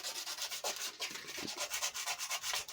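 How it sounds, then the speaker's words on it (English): Sandpaper rubs by hand across trim being shaped for a first-generation Honda Civic drip rail, a steady back-and-forth scratching with even strokes, close and continuous. "You can just have a good go at it with the sandpaper."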